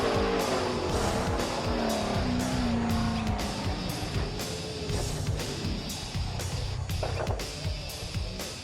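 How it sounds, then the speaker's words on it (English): A Top Sportsman drag racing car crashing at Sydney Dragway, with loud engine roar and screeching, skidding tyres, the squeal sweeping in pitch before fading into continuing racing noise. "the bad luck in Top Sportsman continued, with Dallas White also having a dramatic crash"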